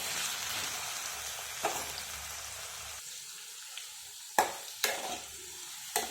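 Potatoes and brinjal fry in a pan with a continuous soft sizzle, broken by a few sharp clacks of stirring or utensil taps, close but fairly quiet.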